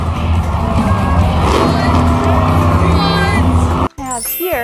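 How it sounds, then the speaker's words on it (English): Monster truck engines roar loud and rough amid an arena crowd's cheering and hubbub, the dense noise running for nearly four seconds before an abrupt cut to brighter, warbling sounds. "You wanna listen to some monster truck engines roar?"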